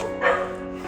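A dog at a Thai dog shelter lets out a single short bark, close and fairly loud, over a humming background.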